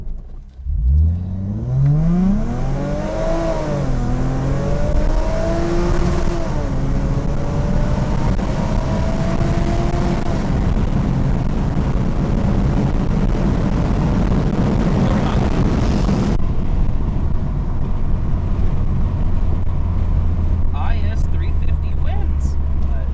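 Supercharged Lexus IS 350 accelerating hard through a quarter-mile run, engine pitch climbing repeatedly through gear changes with a supercharger whine, loud from inside the car, then settling to a steady drone.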